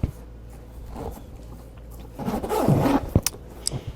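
A zipper on a leather tote rasps briefly in the middle, followed by a few sharp clicks and taps as something is handled close by.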